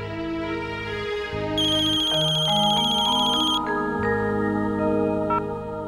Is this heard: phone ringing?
yes